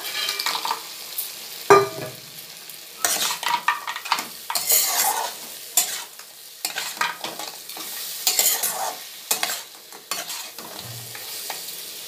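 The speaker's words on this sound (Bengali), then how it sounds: "এই মশলার সাথে ভালো করে বেগুনগুলোকে মিশিয়ে নেবো" Eggplant pieces being stirred with a spice mix in a pan, metal utensil scraping and clanking irregularly against the pan over a soft sizzle, close and fairly loud.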